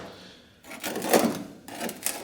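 Pry tool scraping and levering 64-year-old seam sealer off the body of a Renault Dauphine, close up: short scratchy, crackling bursts separated by brief pauses.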